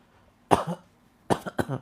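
Two bouts of coughing during a breathing therapy exercise, a single cough followed after a pause by a double cough, close and moderately loud in a quiet room.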